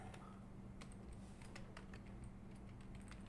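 Faint, quick keystrokes on a computer keyboard tap out a short search query, irregular clicks over a low steady hum with no voices.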